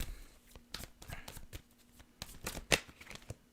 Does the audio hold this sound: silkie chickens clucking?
no